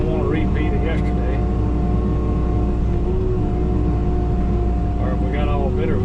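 Kubota KX080 excavator running steadily near a dirt pile, a loud constant diesel rumble with tonal whine and hydraulic pitch shifts, heard close from the cab as someone talks over it.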